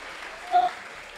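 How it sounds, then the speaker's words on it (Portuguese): A church congregation at a conference breaks into brief applause, a soft, steady wash of many hands clapping at a distance that swells for a moment midway, with no voices. "Você pode dar um glória a Deus, uma salva de palmas para Jesus"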